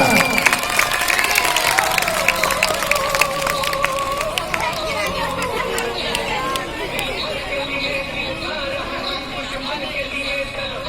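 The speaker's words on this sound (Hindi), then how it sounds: "तालियां।" An audience at a primary school cultural programme in Dhule on 26 January applauds, with scattered crisp claps and a crowd murmuring, while a voice talks over the noise as the clapping fades.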